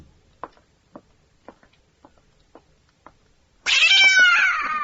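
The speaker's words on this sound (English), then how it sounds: "You like that cat, Miss Diane." A single loud, drawn-out cat meow arrives close up after a quiet stretch of soft evenly spaced ticking, the wail bending downward as it trails off.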